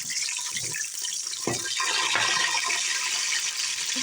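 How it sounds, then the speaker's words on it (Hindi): Green chillies dropped into hot oil in a home kitchen pan, giving a steady loud hissing sizzle throughout with a brief sharper crackle midway, no talking. "अब हम हरी मिर्च डाल देंगे।"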